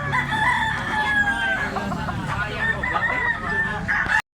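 A young gamefowl rooster, a spangle white bullstag, crows and clucks close by at Tabunok, Cebu. Its calls are repeated and punchy, ending in an abrupt cutoff.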